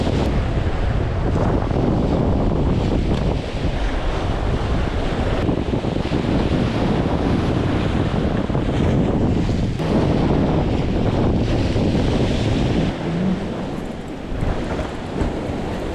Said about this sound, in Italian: nonostante le onde e il vento